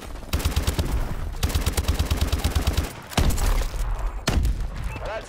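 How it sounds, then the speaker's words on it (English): KF5 rifle firing in the video game Call of Duty Advanced Warfare: fast automatic bursts of rapid shots separated by short gaps, followed by heavier booming hits, loud and close. "It's an elite KF5. With an amazing fire rate."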